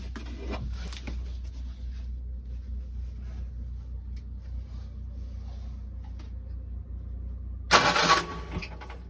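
A low boat engine hum drones steadily, then a short burst of loud mechanical noise breaks in near the end.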